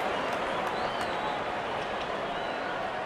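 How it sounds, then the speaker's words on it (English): Stadium crowd applause from the Real Cricket video game during an India vs England T20 match, a dense, continuous clapping roar at a steady level with faint whistles above it. "Good innings and gets a grand applause."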